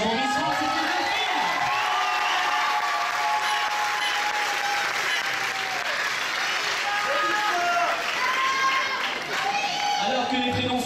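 A large audience at the Miss Poitou-Charentes beauty pageant election gives loud, sustained applause with cheering and shouts in the hall, while a voice carries over the crowd.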